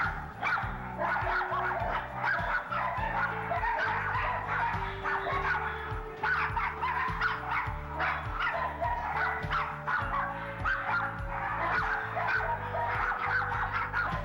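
Shelter dogs in cages bark and whimper nonstop, with a dense, echoing chorus of overlapping barks, yips and whines that stays loud and close throughout, backed by a steady droning tone.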